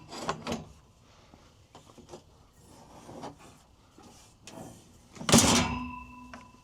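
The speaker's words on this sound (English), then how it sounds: "now I'm just gonna take the tank, slide it into the slots, kind of knock it down, make sure everything seats where it should be" An 8-gallon Midnight Forest Rain Basin water tank slides into its mounting slots with scraping and knocking, a few soft bumps followed by one loud rattling clunk as it seats.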